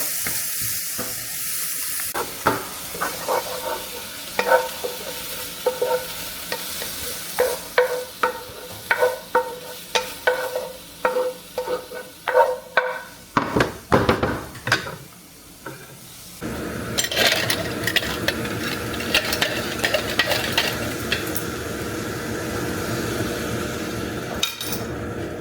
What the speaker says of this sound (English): we're frying up the onions now